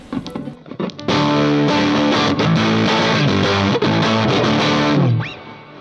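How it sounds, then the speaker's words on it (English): A heavily distorted electric guitar plays loud, sustained chords with a gritty, saturated tone, then stops and rings out. "if I turn it all the way up on the highest impedance setting, you pretty much have a distortion pedal"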